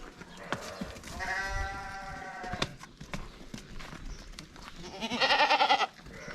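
Two loud, wavering bleats from goats or sheep nearby, separated by a pause with faint rustling and background noise.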